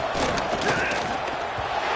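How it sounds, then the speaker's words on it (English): A home crowd at an NFL-style football game roars loudly and steadily, a dense wall of cheering with no breaks throughout. "how nice is it to have the home crowd going absolutely bananas?"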